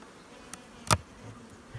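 Honey bees drone faintly and steadily inside an opened nuc hive during an oxalic acid treatment, broken by a few sharp knocks and clicks from the hive boxes.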